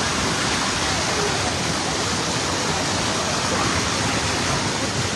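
Floodwater rushes loud and steady through Magpet, Cotabato, a continuous roaring torrent filling the whole clip with no pauses.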